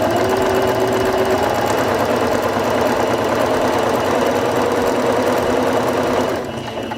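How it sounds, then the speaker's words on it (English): A Singer Fashion Mate 5560 sewing machine sews a straight stitch, its loud, rapid, even motor and needle rhythm running close up for about six seconds before slowing and stopping. "step on the foot control to begin sewing"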